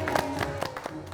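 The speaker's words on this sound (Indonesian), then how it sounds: "Oke, tepuk tangan." A small group claps hands in a brief burst of quick, uneven slaps, close and moderately loud, with voices murmuring underneath.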